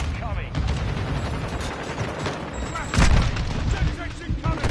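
Mortar strike explosions in Call of Duty: Modern Warfare II multiplayer, booming under constant battle noise and gunfire, with one heavy blast midway; game voice callouts are heard.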